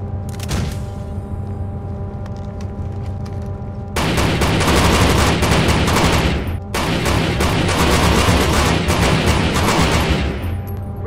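Rapid gunfire and a grenade blast in the tactical shooter Rainbow Six 3: Raven Shield, with dense automatic bursts that stop abruptly, then resume loud and sustained with a heavy boom and continuous firing.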